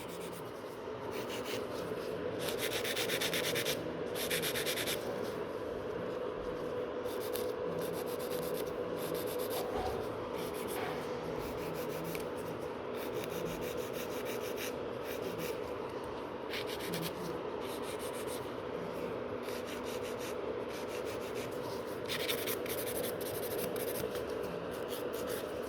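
Steady abrasive rubbing of a nail file working and blending a natural nail during a gel rebalance, a continuous close scratchy rasp with short strokes running throughout, no talking.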